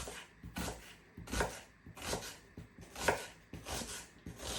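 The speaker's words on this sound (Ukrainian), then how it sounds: "Нарізаю цибульку напівкільцями." A knife chops through an onion on a board, slicing half rings in a series of crisp, close cuts, roughly one every half second.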